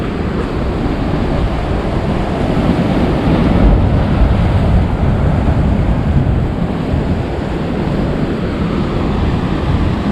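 Big waves crash over the end of an inlet jetty at high tide, a loud continuous roar of surf with heavy wind buffeting the microphone and no clear speech.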